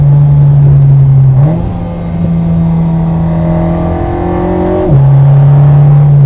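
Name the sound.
Alpine A110 R Ultime sports car engine accelerating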